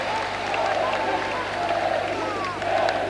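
Crvena zvezda supporters, the Delije, cheer and chant continuously at a water polo playoff semifinal against Bečej, a dense, steady crowd roar filling the pool hall from start to finish.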